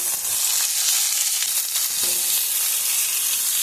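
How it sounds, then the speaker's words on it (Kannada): Onion and tomato frying in a pan for a Kannada chicken curry, a steady close sizzle that fills the whole stretch at even loudness, with faint scraping here and there and no voices. "ಎಲ್ಲ ಚೆನ್ನಾಗಿ ಫ್ರೈ ಆಗ್ತಾಯಿದೆ"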